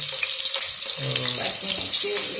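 Sliced onion sizzling in hot oil for mutton curry, a steady loud frying hiss throughout, with voices talking over it.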